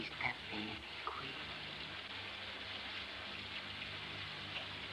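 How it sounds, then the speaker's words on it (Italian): Steady rain hisses evenly throughout, a dense broadband patter with a low rumble underneath and a few faint distant thumps near the start. "Piove."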